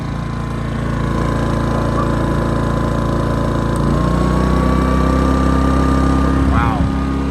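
A Westinghouse iGen 2500 inverter generator runs in eco mode with a steady, close, low mechanical hum that stays even throughout, and a brief voice-like sound near the end.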